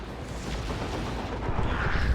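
Rocket strike explosions in the video game Dawn of War 2 rumble as a dense, continuous barrage of booms and crackling impacts, growing slightly louder toward the end.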